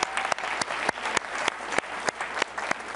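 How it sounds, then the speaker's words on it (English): Dense, steady applause from a conference audience, many hands clapping together at close range, loud and sustained with no talking over it. "let's give a round of applause for Carmen for coming up here."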